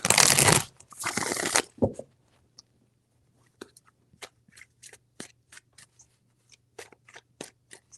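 Tarot cards are shuffled by hand, with two loud riffling bursts at the start followed by a series of soft, scattered taps and flicks as the deck is handled, close and without speech.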